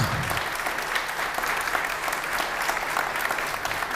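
Audience applause fills the room as a dense, even wash of clapping for several seconds, with no talk over it.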